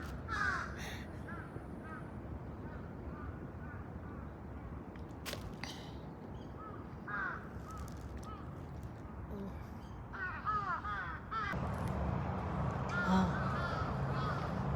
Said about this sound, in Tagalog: So may mga uwak na.